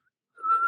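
A single clear whistled note from a woman in a scene from Falcon and the Winter Soldier, short and steady, starting after a brief silence.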